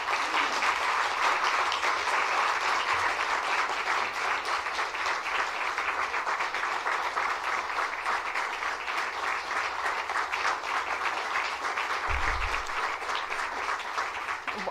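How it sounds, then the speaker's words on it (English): Sustained audience applause at a League of Women Voters candidate forum for Senate District 45, steady and dense for the whole stretch, with a brief low thump near the end. "Audience, please join me in thanking the candidates with your applause."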